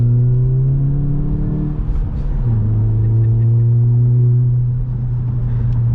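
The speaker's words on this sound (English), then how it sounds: "I'll let you hear the exhaust again." A 2019 Volkswagen Jetta GLI with a 6-speed manual drones steadily with a low exhaust rumble, its pitch climbing and shifting as it accelerates throughout, loud and close.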